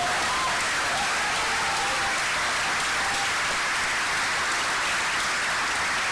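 A lecture audience at a social justice event applauds in a steady, dense wash of clapping that holds evenly throughout without a break.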